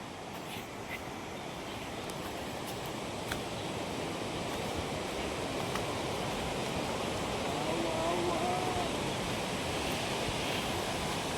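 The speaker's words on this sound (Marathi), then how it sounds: "समोर धबधबा आहे" Ranpat waterfall, a hidden waterfall near Ukshi in rural Konkan, gives a steady, fairly loud rushing roar that fills the whole stretch without pause. A faint voice is heard briefly near the end.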